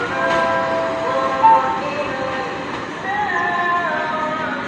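A commuter train passes Tambun station on the new line, moving slowly. A steady rumbling roar holds under a brief sharp tone from a horn or brake, with the wheels droning on throughout.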